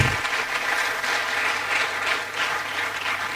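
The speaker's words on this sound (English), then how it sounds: "A resounding round of applause" Dense, steady applause from an audience at a quantity surveyors' annual gathering, many hands clapping close together at an even level throughout.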